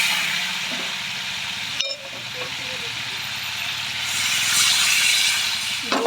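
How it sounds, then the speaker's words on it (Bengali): Dried chillies, cumin and mustard seeds hit hot oil in a kadai, giving a steady broadband sizzle and hiss that swells toward the end, with a brief clatter partway through. "কড়াইতে শুকনো লঙ্কা জিরে সর্ষে আটা দিলাম তেল গরম হয়ে গেছে"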